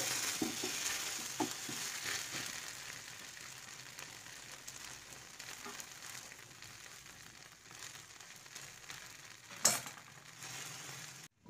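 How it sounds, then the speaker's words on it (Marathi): Soft, steady sizzling of bread rolls toasting in butter on a hot griddle, with a single clink of utensils near the end. "तर फ्रेंड्स भाजी शिजत आहे तोपर्यंत आपण पाव भाजून घेऊया"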